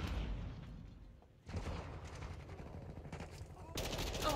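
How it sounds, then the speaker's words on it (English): Shotgun fire in a multiplayer shooter video game, several loud bursts of gunfire that cut in abruptly and are separated by short gaps. "another shotgun"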